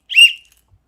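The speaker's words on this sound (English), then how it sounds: "Sorry to hear the whistle." A single short, high whistle blast, clear and fairly loud, fading quickly into silence.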